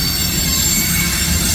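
CSX mixed freight train cars rolling past at close range, loud continuous wheel squeal ringing in high steady tones over a rumbling, clattering low end.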